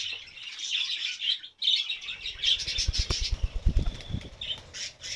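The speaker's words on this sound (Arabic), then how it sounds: "الطيور ديالنا جالسين كيتساراو في وسط المحميه ناشطين" Lots of small birds chirping and tweeting together in an aviary, with some squawks and wing flutters nearby, busy and lively.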